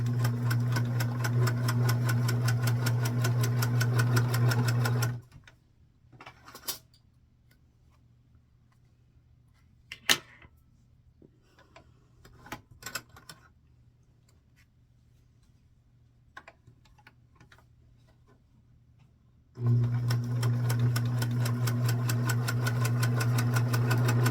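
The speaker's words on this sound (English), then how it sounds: "now I'm going to the second piece, sewing across the shoulders" A sewing machine runs steadily while stitching across the shoulder seams of a Simplicity 3522 dress with an applied collar. It whirs loudly and continuously at the start, stops for quiet handling noises, then starts up again near the end.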